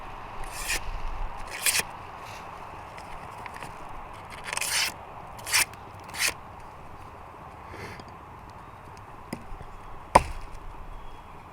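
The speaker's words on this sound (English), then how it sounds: "We're still cutting paper." A Holtzman Gorilla Survival D2 knife slices through paper in short, crisp swipes. The cuts come in scattered bursts over a quiet background, close and sharp, with one stroke louder than the rest.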